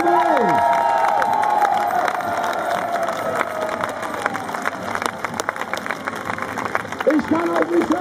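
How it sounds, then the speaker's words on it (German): Festival crowd at a castle fest cheering and whooping after a battle reenactment of Bannockburn 1314, a broad roar of many voices with whistles, fading a little then swelling again as someone speaks over it. "gebt mir euren besonderen Jubel für alle Teilnehmer"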